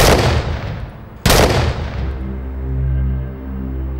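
Gunshots ring out in a Turkish TV drama scene: two loud, sharp blasts about a second apart, the second followed by a long fading echo and a low droning score, with no speech.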